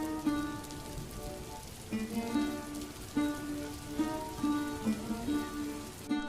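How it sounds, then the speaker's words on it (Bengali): Heavy rain pours down in an animated story, a steady close hiss of falling drops that runs throughout beneath gentle tonal background music. "এমন সময় রাস্তায় হঠাৎ করে প্রবল বৃষ্টি শুরু হয়ে গেল"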